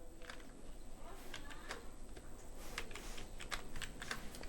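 Soft, quick keystrokes on a computer keyboard tap in an irregular rhythm over faint background hiss while text is typed into a Publisher document, with no talk.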